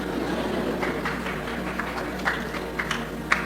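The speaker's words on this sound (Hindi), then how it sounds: "ताली कौन बजा रहा है" A few scattered claps from an audience at a religious discourse, sparse and uneven rather than sustained applause, with a handful of sharper hand-claps standing out over a steady background hum, and no one talking.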